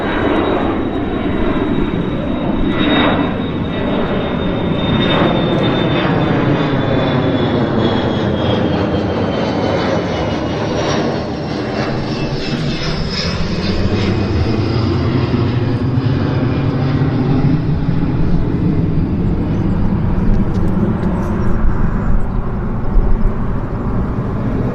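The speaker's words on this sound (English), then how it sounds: "Air North, it's a 737-500 belonging to Air North." A Boeing 737-500 jet airliner run by Air North at Vancouver YVR airport gives a loud, steady engine roar with a high whine, holding close and continuous throughout with no talk.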